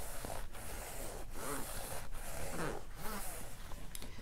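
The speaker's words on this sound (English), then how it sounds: "We can just zip open and have it ready to go." A makeup bag's zipper drawn open in several close, rasping pulls, with short pauses between strokes, soft and intimate in a quiet room.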